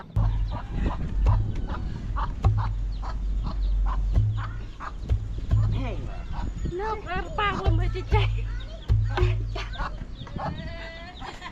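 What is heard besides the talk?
chickens clucking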